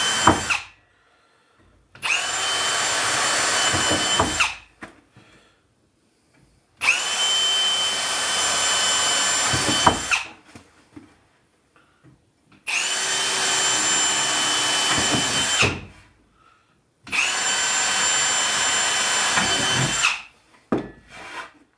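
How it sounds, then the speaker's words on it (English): A power drill whirs through reclaimed wood, pre-drilling holes in four long bursts, each lasting a few seconds, separated by short quiet pauses and small clicks. "I'm going to pre-drill right down the side here."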